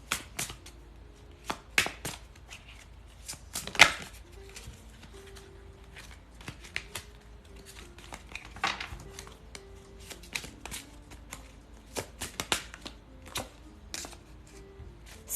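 Tarot cards are shuffled and handled nearby, producing soft riffling, scattered slaps and clicks at irregular intervals over a quiet background.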